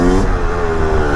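A 250 YZ two-stroke supermoto with a carburettor and FMF exhaust revs loud and close, its buzzing engine note climbing steadily with a crackling exhaust edge.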